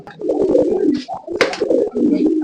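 Several male Giribaz pigeons coo in low, throaty, rolling calls close by, one brief rustle or flap in the middle.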